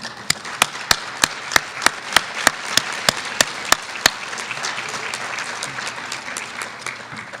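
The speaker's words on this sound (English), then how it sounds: "let's give them a round of applause" Audience applause at a Martin Luther King Jr. community celebration, a steady crowd of clapping with one person's sharp, evenly spaced claps standing out early, then fading into the general wash.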